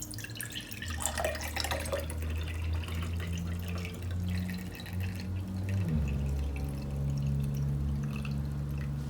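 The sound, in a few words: rinsing out a kombucha bottle with water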